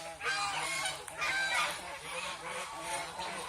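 Ducks on a duck farm honking together in a continuous noisy chorus of overlapping nasal calls, close and fairly loud, with no one speaking.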